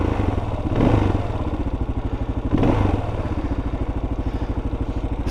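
A Kawasaki KLR650 motorcycle engine runs close by, a steady rhythmic chugging idle with slight clattering and two brief swells in volume, no voices.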